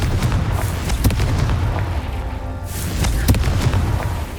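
In the video game Hogwarts Legacy, a fiery Confringo blast spell explodes as several sharp, close booms. The bursts are spread across a few seconds over a continuous rumbling game backdrop.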